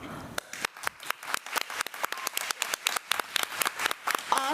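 A school board meeting audience gives a round of applause, sharp individual claps ringing out in a fairly sparse, uneven rhythm throughout the room, moderately loud and close.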